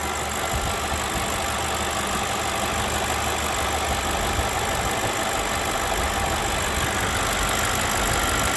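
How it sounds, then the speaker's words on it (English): BMW 735i engine with about 260,000 kilometers idles steadily, a loud continuous rumble with a faint ticking knock, close up and without talk. "the car is on idle"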